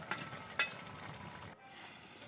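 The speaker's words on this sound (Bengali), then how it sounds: "তরকারিগুলো প্রায় হয়ে আসছে, বলক উঠে গিয়েছে।" Fish curry of small chela fish bubbles in a pot over a village fire, giving a soft, close sizzling simmer. A couple of brief pops stand out early, and then the sound drops to a quieter, low bubbling.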